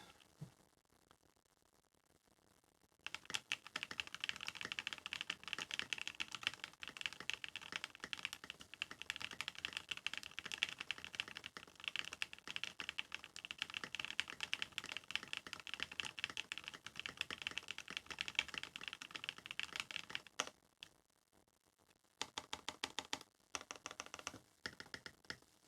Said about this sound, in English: Let's do typing test.